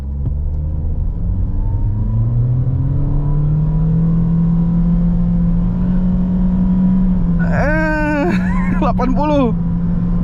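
A 2018 Toyota Yaris 1.5 CVT TRD Sportivo in sport mode accelerating at full throttle, its engine drone rising and then holding a steady loud pitch, with a voice speaking briefly near the end.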